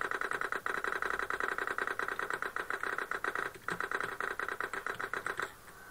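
A motorcycle engine in GTA San Andreas runs with a steady, fast mechanical pulsing, moderately quiet and continuous, then drops away abruptly near the end, with no voices.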